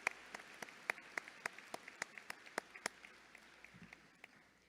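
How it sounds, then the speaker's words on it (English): Sparse, distinct hand claps at a college commencement ceremony, a dozen or so evenly spaced sharp claps standing out over quiet room tone, thinning out and fading near the end. "Let's give him a round of applause."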